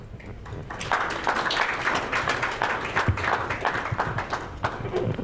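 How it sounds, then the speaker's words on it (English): A conference audience breaks into dense, sustained applause after a talk, many hands clapping at once for several seconds, with a voice faintly audible underneath. "Another round of applause"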